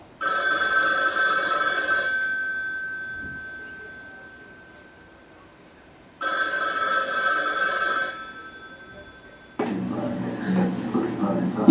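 A telephone bell rings in two long bursts separated by a pause, loud and close, followed by a burst of other noise at the end; no one speaks.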